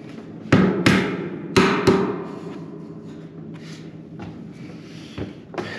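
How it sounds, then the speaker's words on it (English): A rubber mallet taps accessory hardware into place on a 2024 Can-Am Defender HD9, giving four sharp close knocks in two pairs followed by fainter handling noise. "Get a rubber mallet so you don't mess up the finish."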